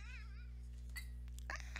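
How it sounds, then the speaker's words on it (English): A cat's meow, mistaken at first for a baby, rises and wavers as a high, warbling cry at the start, followed by brief faint squeaks over a steady low hum. "I thought that was a baby, but no, that was the cat."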